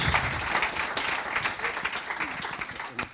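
An audience at an awards ceremony gives a dense, steady burst of applause, close and fairly loud, sustained evenly throughout.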